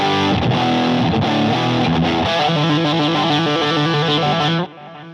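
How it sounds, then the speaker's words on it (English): A guitar played through the overdrive channel of a Marshall Mini Silver Jubilee 2525H amp, with gritty driven chords and then a quicker picked riff, loud and continuous before it cuts off sharply near the end. "Overdrive sounds like this."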